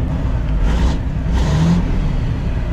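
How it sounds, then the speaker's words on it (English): Kenworth truck with a Caterpillar diesel engine revving: a steady, loud engine rumble that swells twice with brief throttle rises, close by, with no talk. "Ain't nothing like a Caterpillar engine."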